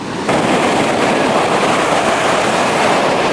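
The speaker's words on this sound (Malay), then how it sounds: "Dengar tak dia punya bunyi dia tu, dengar dia punya pukulan ombak dia tu." Sea waves crash onto a shore beside a family camping spot, a loud, continuous roaring wash of surf that swells up suddenly and holds, close and alone.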